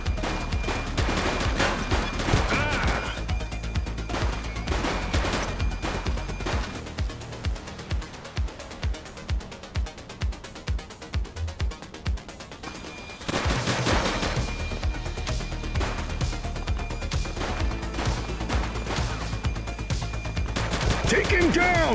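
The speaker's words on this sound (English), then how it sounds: "He's shooting!" Sustained bursts of gunfire in The Precinct police game, dense fusillades with a run of sharp rhythmic shots in the middle, loud and close over game noise with some voices.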